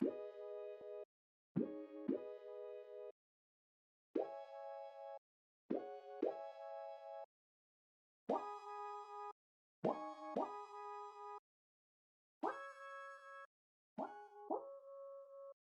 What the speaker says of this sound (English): The first thing I started with is this synth,